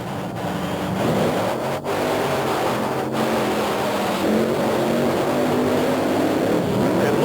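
Monster trucks Equalizer and Wild Hare race at a 1990 TNT Monster Trucks event in Myrtle Beach, South Carolina, their engines roaring loud and sustained with rising revs, the noise unbroken for the whole stretch.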